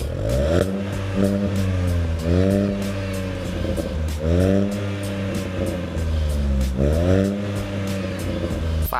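A Honda City Hatchback fitted with a JTC titanium supersport exhaust revs repeatedly, rising and falling in pitch four times in a steady rhythm. It is close and loud, with a brief murmur of speech.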